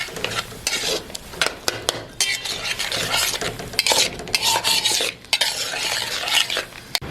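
Mutton karahi fries in a wok while a utensil stirs and scrapes against the metal, sharp clanks and scraping strokes over a continuous loud sizzle, close up.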